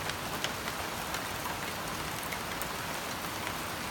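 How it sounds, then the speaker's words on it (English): Rain from a winter thunderstorm falls in a steady, even hiss that stays level for the whole stretch, with no thunder and no voices. "This is rain."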